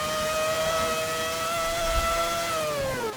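A racing car's engine in Forza Motorsport 7, a steady high-revving drone with clear tonal harmonics held near-constant, easing slightly at the end, loud and alone with no voices.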